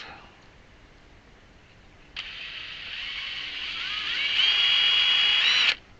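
A power drill whirs steadily while cleaning out holes in parts for a homemade vertical-axis wind generator, starting abruptly, then rising in pitch and strength before cutting off sharply.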